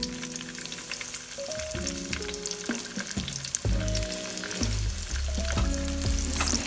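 Chicken schnitzel coated in Passover schnitzel mix fries in a bowed pan, a steady loud sizzle with crackling and occasional clatter as pieces are moved, close and continuous with no talk.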